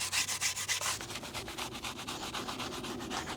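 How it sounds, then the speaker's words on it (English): A small, hard-bristled brush scrubs a car tyre in quick back-and-forth strokes, a close, rhythmic scratchy rubbing that repeats steadily without pause, with no talking. "then we'll go in with a small bristled, quite hard bristled brush to give them a scrub"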